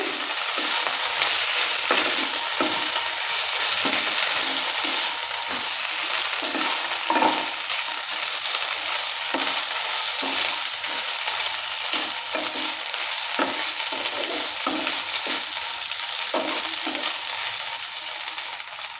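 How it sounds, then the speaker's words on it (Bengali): Banana flower curry ingredients sizzle in a hot pan while a spatula stirs them, giving a dense continuous fry with regular scraping strokes throughout, close and fairly loud, no talking. "ভালো করে নেড়ে চেড়ে নিয়ে ভেজে নিলাম। এবার একসঙ্গে মিক্স করে দিচ্ছি।"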